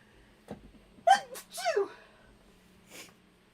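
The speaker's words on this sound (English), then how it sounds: "I feel a sneeze coming on." A single close, sharp human sneeze bursts out mid-clip, with a short breathy intake before it and a faint trailing sound after, set against quiet room hum during sandwich making.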